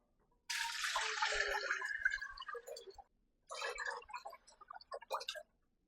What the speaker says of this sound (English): I'm going to half it with water.